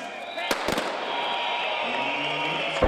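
A starting pistol cracks sharply at the Berlin six-day cycling race, a quick cluster of loud reports in an echoing hall, with a voice talking underneath.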